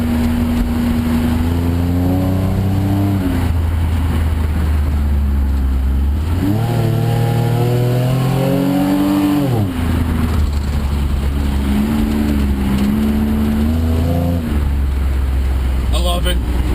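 A car fitted with a Varex muffler set to loud mode revs repeatedly, its deep exhaust note rising and falling across several long pulls, loud and close with a steady background hum.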